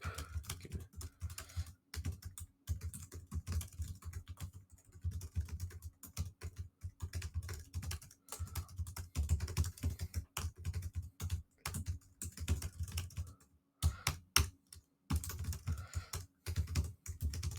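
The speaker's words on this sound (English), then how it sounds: "Furious typing going on." Someone types furiously on a computer keyboard: a dense, continuous clatter of rapid keystrokes with brief pauses, close by and steady, with no talking over it.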